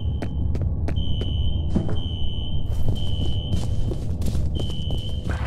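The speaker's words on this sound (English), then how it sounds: "A fire alarm. It was triggered at a security office on that floor." Fire alarm in the video game F.E.A.R., set off in a security office, sounding as a steady high electronic tone that drops out and returns over a low rumbling background, with faint footsteps.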